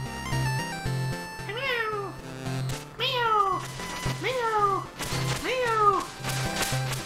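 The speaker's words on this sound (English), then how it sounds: "It's a kitty! Meow! Meow! Meow!" A cat meows repeatedly in the Shovel Knight: Specter of Torment video game, four or five drawn-out descending cries over a steady, loud chiptune music bed.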